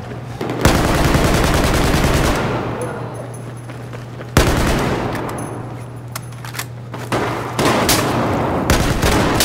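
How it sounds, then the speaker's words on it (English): Weapons fire in Battlefield 4, with heavy booming shots and bursts of gunfire over a steady low hum, sharp blasts recurring at intervals and crowding together near the end. "What the hell's that guy packing? A shotgun?"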